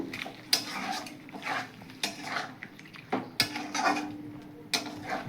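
Chicken sautéed with whisked sour curd in a metal pan is stirred with a spoon. Bright, sharp clinks and knocks against the pan come at an irregular pace over soft scraping.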